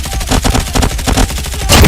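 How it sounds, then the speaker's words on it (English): Rapid shotgun fire in Call of Duty Mobile, a dense run of loud blasts repeating every quarter second or so for about two seconds, ending in a heavier burst. "I have a better accuracy and a higher chance of hitting the target with my shotgun"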